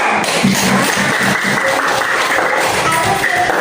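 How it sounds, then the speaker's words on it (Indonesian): A class of schoolchildren claps together in an Islamic religious education lesson, a steady wash of many hands filling the room with a rough, even texture and no voices over it. "Kita tepuk tangan dulu."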